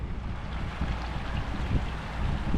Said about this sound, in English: it's just so peaceful down here listening to the water flow through this area